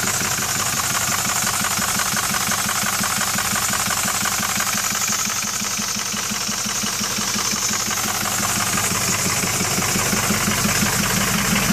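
Ford 6.0 diesel engine idling steadily with a low rhythmic clatter and broad hissing noise, close and continuous throughout with no talking.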